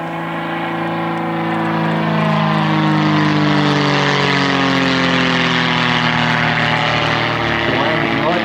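A CT-4A propeller trainer flying a display manoeuvre at RAAF Point Cook, its steady engine drone swelling to a loud sustained peak and holding there, with a commentator speaking over the noise.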